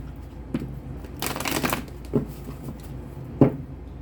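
Tarot cards are shuffled in a short riffling burst, with a few soft taps and knocks before and after in a quiet room.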